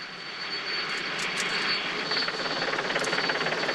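Helicopter filming the Tour de France stage 1 race from above, heard as a steady broadband rotor and engine roar that stays loud and constant throughout, with no voices.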